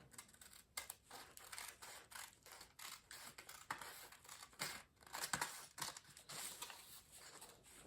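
Scissors snip through fabric while cutting a horseshoe neckline, a quick irregular series of crisp, faint cuts and rustles close by, with no talking.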